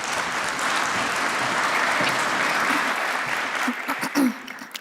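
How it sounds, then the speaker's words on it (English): Audience applause at a tech conference talk fills the room steadily, then thins into scattered claps and a few voices near the end. "Please join me in giving her a huge round of applause"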